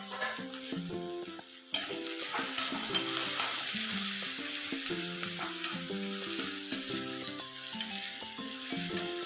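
Chopped onion and two green chillies frying in a pan of hot oil, a loud sizzle that bursts in as they go in and then hisses steadily close by, with faint music in the background and no talk.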